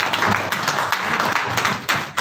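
An audience at a business meeting claps loudly together, a dense patter of hand claps that carries on steadily for a couple of seconds.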